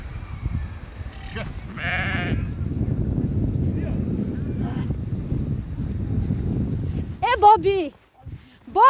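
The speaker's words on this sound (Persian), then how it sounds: "این گوسفندای شما آسته راه بگردین" Sheep bleat near the end, two or three wavering cries close by, after a stretch of wind and a voice calling to the flock outdoors.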